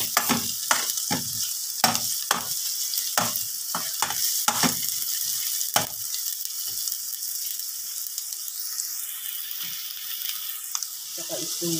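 Garlic and then onion sautéing in a pan for a salmon-head sinigang with miso, a steady near sizzle broken by repeated sharp clatters of stirring and scraping, with no one talking.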